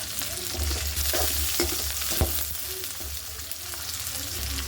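Green chilies fry in a pan with onion and garlic for a needle fish curry, giving a steady, close sizzle broken by occasional stirring scrapes, with a voice faintly audible at times.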